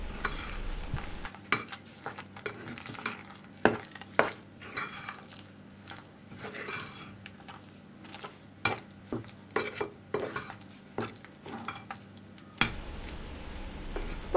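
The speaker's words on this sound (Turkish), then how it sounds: "Bulgurla mercimeği güzelce karıştırdım." A spoon stirs red lentils and fine bulgur together in a pot, giving close, soft wet squishes and irregular scraping knocks against the pot throughout, with a louder clatter near the end and no talk.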